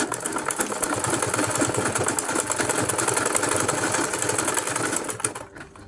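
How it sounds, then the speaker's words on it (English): A sewing machine stitching a fabric handle runs in a fast, steady mechanical chatter close by, holding an even rhythm before slowing and stopping near the end. "you take it to your sewing machine"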